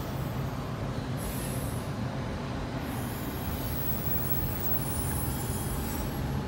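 A freight train rolls steadily past close by, carrying Norfolk Southern autorack cars, with a continuous loud rumble of wheels on rail and brief high squeals from the wheels partway through.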